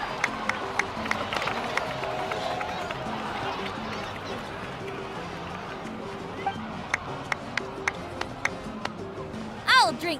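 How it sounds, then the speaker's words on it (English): Crowd cheering and clapping in the video game Genshin Impact, with a murmur of voices, scattered sharp claps standing out, and a brief louder burst near the end. "so please give another round of applause for them"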